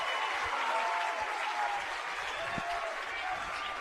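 Baseball fans at a state championship game clap and cheer as a steady, distant crowd roar, with a commentator talking over it.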